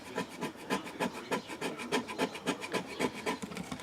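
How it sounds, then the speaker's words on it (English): Bone folder burnishing vinyl for a water bottle, a quick series of rhythmic rubbing strokes, close and fairly quiet, with no talk. "I come in with my bone folder here and just go around and do a really good burnishing"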